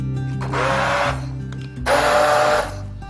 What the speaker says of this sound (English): Now gently pulse with a hand blender